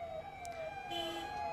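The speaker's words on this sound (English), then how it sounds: "district administrations in central Panna town used police sirens to scare away the" Police sirens used to scare away desert locusts in central Panna town, India, wail faintly in the distance, their sweeping tones rising and falling steadily.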